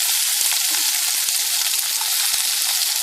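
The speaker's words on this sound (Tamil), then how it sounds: "இப்போ நம்ம அந்த வெங்காயத்தை போடுவோம்." Onions sizzle steadily in hot oil alongside crackling mustard seeds and curry leaves, a continuous close frying hiss with small pops throughout, no talk, for a Tamil-style kovakkai poriyal.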